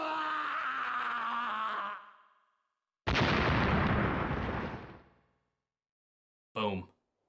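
Explosions and roaring flamethrower bursts in a boss fight against Sergeant Thunder in the shooter Winback: Covert Operations, heard as two long loud blasts of a few seconds each, then a short sharp burst at the end, with no talking.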